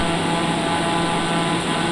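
A TBM 930 turboprop cruises in flight just after flap retraction with power eased back slightly, giving a continuous, even engine and airflow roar heard from inside the cabin.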